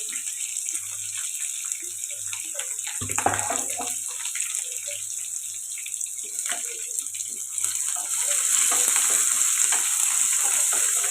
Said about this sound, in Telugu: ఇవన్నీ బాగా ఫ్రై చేసుకోవాలి